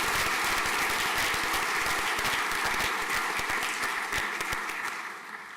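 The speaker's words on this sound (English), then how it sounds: "If we could have a round of applause, please." A school prizegiving audience at St Paul's Collegiate School applauds a prize winner: a dense, steady wash of many hands clapping in a large hall, holding for several seconds before gradually fading.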